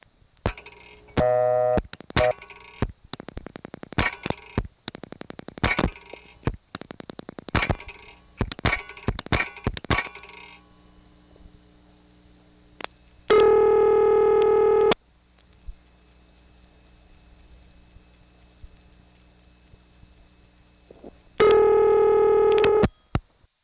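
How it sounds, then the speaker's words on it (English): An intra-office call on a 1976 step-by-step telephone exchange: a burst of rapid dial clicks and pulses gives way to two long, loud, steady ring tones separated by a quiet gap. "Here's an intra-office call going to a ringtone"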